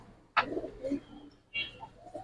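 Giribaj pigeons coo softly nearby in a loft, two short muffled calls separated by a pause, faint against a quiet background.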